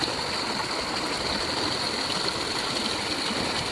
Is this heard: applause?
no